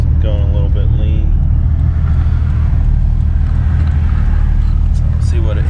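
A Toyota Supra MK3 with an HKS EVC boost controller holds a loud, steady deep engine drone on a boost pull, with brief tonal whines near the start and end.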